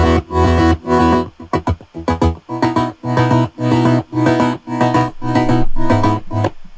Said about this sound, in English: if you want to make it plucky, just shorten the decay a bunch, and it will sound like it's plucky